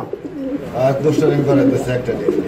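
Male and female pigeons at a breeder's loft, with soft throaty cooing close by, continuous over a couple of seconds and mixed with faint background voices.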